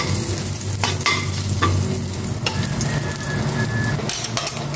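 Stir-frying for fried rice in an unwashed wok, a steady close sizzle with scraping stirs and a few clinks of a utensil against the pan.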